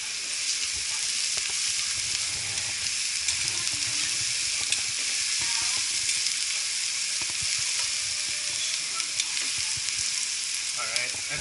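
Red wine for a short rib ragu sizzles and bubbles steadily in a hot pan as it reduces, a constant close hiss with occasional stirring scrapes.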